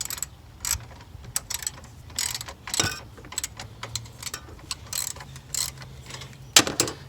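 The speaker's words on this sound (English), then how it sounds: "When tighten it with the socket, you don't want to over tighten this" Socket ratchet tightening the battery hold-down on a 2008–2017 Mitsubishi Lancer, a close series of quick clicking pawl bursts in irregular strokes with occasional metallic clunks and knocks, no talking.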